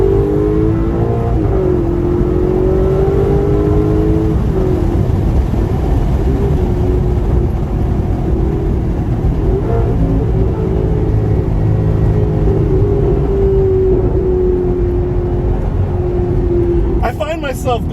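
An Alfa Romeo 8C Competizione sports car engine drones steadily with a deep, throaty exhaust note heard from behind, its pitch rising and easing in slow revs, loud and close throughout.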